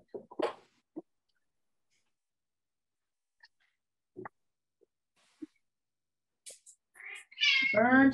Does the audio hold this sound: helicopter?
no